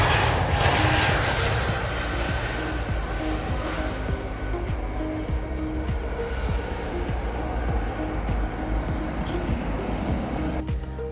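A jet airliner roars loudly and steadily near Kochi's Nedumbassery airport as it lands or takes off, a broad sustained engine rumble that fades slightly over about eleven seconds, with no voices.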